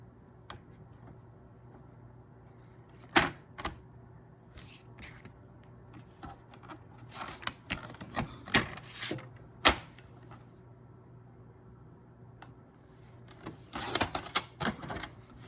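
Cardstock being cut in half for a diamond fold card, heard as scattered sharp clicks and snips close by in a quiet room, with bursts of rustling handling near the end.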